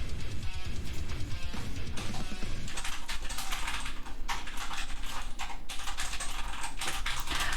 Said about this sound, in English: I really like the sound of that new keyboard.